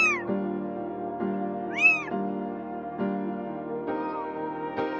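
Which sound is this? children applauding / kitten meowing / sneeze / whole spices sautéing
kitten meowing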